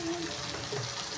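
Fish roe fries in a pan with a steady, dense sizzle that fills the whole brief moment, close and even, with no voices.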